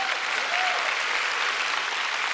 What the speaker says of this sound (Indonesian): Udah maksimal nih antusias segini tepuk tangannya.